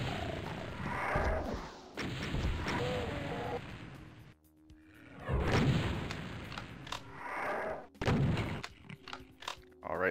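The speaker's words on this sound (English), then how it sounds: "Let's throw a couple rockets at Mr. Revenant here." Rocket launcher shots and explosions hitting a Revenant in the video game Doom 2, on an Ultra Violence level, with several loud booms and blasts spread across the stretch among other game sounds.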